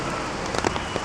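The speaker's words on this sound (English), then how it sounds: "torrential raining." Torrential rain pours down in Lisbon, a dense, steady hiss of drops hitting surfaces close by, with a few louder splashes and no voices.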